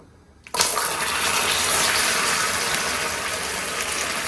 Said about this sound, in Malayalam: ഇനി ഇതിലേക്ക് ഞാൻ ഇച്ചിരി വെള്ളം ആഡ് ചെയ്ത് കൊടുക്കും